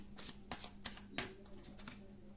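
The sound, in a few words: tarot cards being shuffled and drawn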